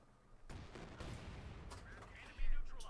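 A land mine goes off in a Company of Heroes 2 match, a sudden loud blast near the end among scattered battle gunfire, with a commentator talking over it.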